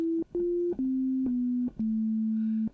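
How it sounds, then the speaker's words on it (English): Sine wave oscillator on an Arminator synthesizer, playing a series of pure, clean sustained notes stepping slightly lower, each starting with a soft click and separated by short gaps. "there is a sine wave oscillator which you can bring in, which is after the filter section"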